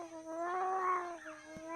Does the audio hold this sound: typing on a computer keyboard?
no